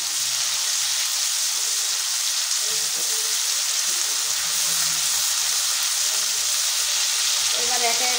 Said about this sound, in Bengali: টমেটোর পেস্টটা দিয়ে একটু নাড়াচাড়া করে নেব।